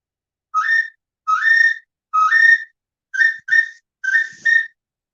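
Someone whistles six short rising chirps in uneven groups, imitating a cricket, clear and close against silence.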